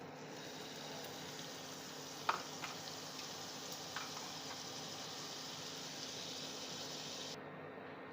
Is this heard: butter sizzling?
yes